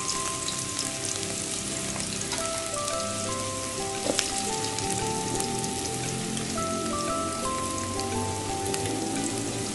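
Sliced ginger sizzling in hot oil at the start of a chicken tinola, a dense, continuous crackle and spatter heard up close for several seconds, with a brief louder pop midway and no talking.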